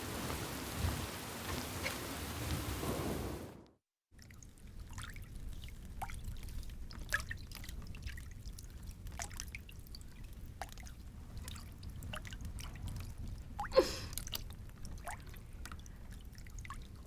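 Heavy storm rain as a drama sound effect, a dense roaring downpour that cuts out briefly, then returns as steady rain with scattered drops and a sharp thunder crack, no talk.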